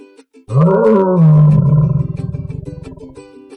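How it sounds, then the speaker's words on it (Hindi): A lion gives a single loud, close roar that swells and then breaks into rhythmic grunting pulses as it fades out. "शेर सिंह ने दहाड़ मारी"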